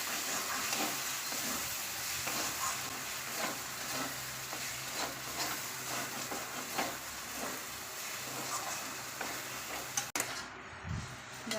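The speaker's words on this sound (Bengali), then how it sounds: "এই যে আমি বেশি করে একটু ভেজে দিলাম।" Spices for a jackfruit curry sizzle in ghee in a pan, frying with a steady soft hiss while a utensil stirs and scrapes at intervals, heard alone and fairly quiet.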